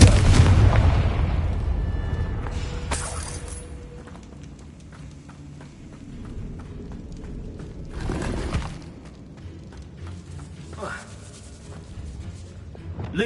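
Confringo fire spell blasts in the Hogwarts Legacy video game: a deep rumbling burst opens, then two sharp broadband explosions land a few seconds apart, full and fairly close amid low game ambience.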